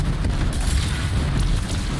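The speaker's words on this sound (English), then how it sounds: "They're throwing grenades now." A grenade blast in Destiny 2 gameplay lands as a dense, booming burst of low rumble and crackle over the full two seconds, loud and close with no voice over it.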